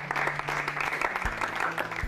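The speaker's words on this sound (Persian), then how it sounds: "شما هم تشویق کنید، خواهش می‌کنم." A studio audience claps steadily at a televised celebrity competition show, a dense, even patter of many hands at moderate volume with low noise underneath.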